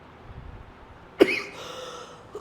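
A single sharp cough bursts out close and loud midway through an otherwise quiet stretch, followed by a brief rough exhale, from someone coughing after a change of climate on a trip to Manali.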